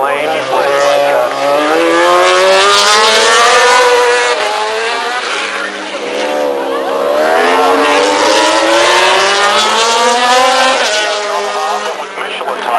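Valentino Rossi's MotoGP racing motorcycle on Michelin tires rides up pit lane in 2008 qualifying, its high engine note climbing and falling through gear changes, loud and continuous under a commentator's talk.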